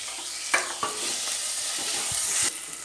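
Tomato and onion fry in a pan with a steady close sizzle, broken by a few soft stirring knocks and scrapes against the pan, with no voices.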